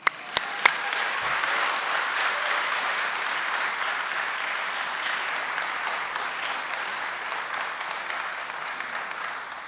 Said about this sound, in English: we can clap now for her